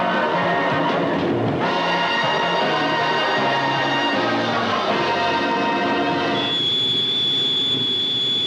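A TGV high-speed train on early trials in 1972, from the Alstom works at Belfort: a loud, continuous rumbling roar with whining tones that rise and shift, close by, with a high steady whine emerging toward the end.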